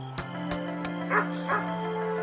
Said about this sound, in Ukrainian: Собаки у нас.